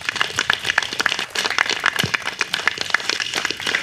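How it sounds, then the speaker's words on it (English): A round of applause from the crowd at a junior golf program event in Tobago, with sharp, fairly close claps at a brisk, uneven rhythm throughout. "I want everybody to just give them a good round of applause,"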